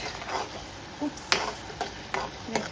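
Spoon or ladle stirring pasta in a pan for aglio e olio, a few soft scrapes and clinks spaced over a quiet kitchen background.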